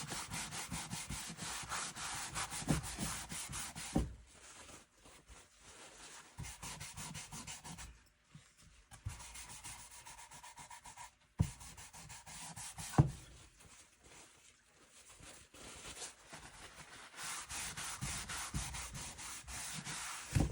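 Rubbing dark wax onto a wooden thrift-store piece by hand, soft close scrubbing strokes in rhythmic bursts separated by brief pauses, quiet and without talk.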